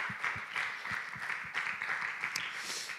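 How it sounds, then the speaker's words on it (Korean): A church youth worship congregation claps in encouragement for its officers, a soft, steady patter of applause from a moderately distant crowd with little else heard. "우리 임원들 위해서 매주 감사하다고 또 격려의 박수 함께 나누겠습니다"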